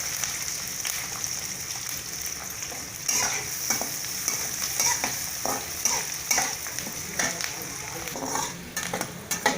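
Onions with curry leaves and green chilies sautéing in a pan for Tamil gram flour kurma, a close, steady sizzle broken by frequent scraping stirs and clinks of a spoon against the pan.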